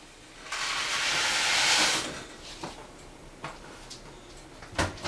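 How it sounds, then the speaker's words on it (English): A bright rushing hiss swells for about a second and a half as dry Kraft Dinner macaroni slides into bubbling boiling water, followed by light clicks and taps. "Pour the noodles into the boiling water."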